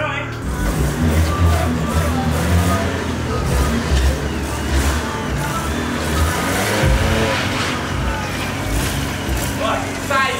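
A car drives a challenge course, its engine droning loudly and steadily up close with changing revs throughout. Voices talk over the engine.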